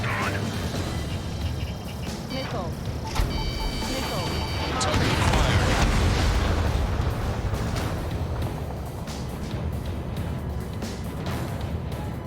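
Missiles launch and blow up in the Ace Combat 7: Skies Unknown flight game. Rumbling engine noise and blasts sit under lock-on warning beeps and radio chatter, with a large surge of explosion noise in the middle.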